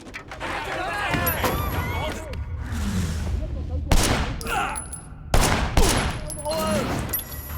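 Gunfire in the video game Sleeping Dogs: bursts of rapid shots and sharp single cracks with loud impacts, mixed with game effects and a voice talking throughout.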